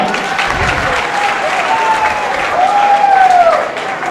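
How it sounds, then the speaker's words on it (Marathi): Loud, steady crowd applause welcoming a guest at an office inauguration event, a thick wash of clapping throughout, with a voice speaking over it. "आपल्या भागाचे महानगर अध्यक्ष अमरभाऊ राजूरकर यांचं सुद्धा टाळ्या वाजून स्वागत करा"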